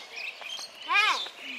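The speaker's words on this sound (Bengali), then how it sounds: "এখানে প্রচুর পাখি ডাকে" Birds calling at dawn around a hillside near a beach, with a loud downward-sweeping chirp close by at the center and fainter tweets and chirps scattered before and after.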